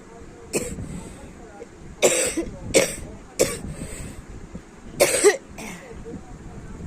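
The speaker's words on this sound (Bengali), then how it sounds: "প্রচণ্ড কাশি হয়েছে" One person with a bad cough coughs repeatedly in short, harsh bursts, about six in all, close by, with quiet pauses between them.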